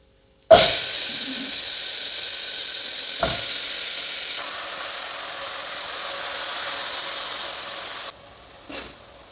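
Marinated eggplant hits hot oil with cumin, radhuni and panch phoron spices, a loud sharp sizzle bursting in at once and hissing steadily, with a couple of clatters from stirring along the way.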